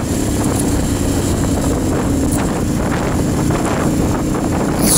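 Heavy wind buffeting the microphone on a Ducati Hypermotard 1100 ride, a loud, steady roaring rush that stays constant throughout with no voices.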